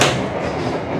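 A steady rumble of a train rolling along the rails, heard from inside the dining carriage of the KA Kutojaya Utara economy premium train leaving Pasar Senen station, loud and continuous.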